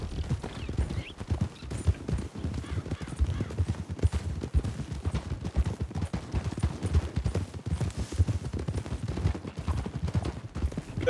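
Horse hooves clip-clop at a steady, brisk rhythm while riding in the Western role-play game RedM, a continuous run of close hoofbeats with faint background game sounds.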